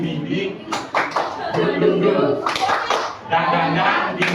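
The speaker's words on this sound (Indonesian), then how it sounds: "Kita ikutin kalau tepuk semangat." A group of standing people doing the tepuk semangat clapping chant, with bursts of clapping in rhythm and voices chanting along close by.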